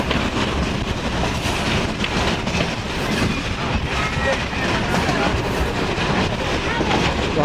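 Passenger train on the Rawalpindi to Havelian line, a steady loud rumble of wheels and carriages with faint clickety-clack throughout, heard from on board under cloudy skies.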